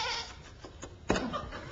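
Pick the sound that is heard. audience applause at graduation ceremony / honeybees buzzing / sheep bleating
sheep bleating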